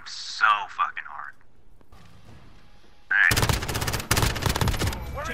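Loud automatic gunfire in a video game erupts in rapid bursts near the end, after quieter game sounds and a voice talking earlier.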